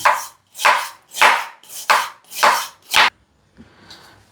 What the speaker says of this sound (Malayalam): നമ്മളിവിടെ ഒരു 4 വെല്ലുള്ളി എടുത്തിട്ട് ഇതുപോലെ നൈസായിട്ട് സ്ലൈസ് ചെയ്തെടുക്കുക